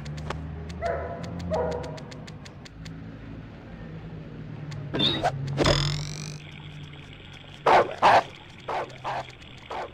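Dogs bark in the Ratatouille video game, a few sharp close barks and yips scattered among other game effects, with a whoosh midway and a cluster of loud barks near the end.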